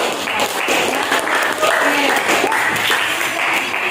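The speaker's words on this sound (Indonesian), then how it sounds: "tepuk tangan sekali lagi untuk kelompok 2 dan 4" A classroom applauds student groups 2 and 4, steady moderately loud clapping from many hands filling the room, with a few voices murmuring underneath.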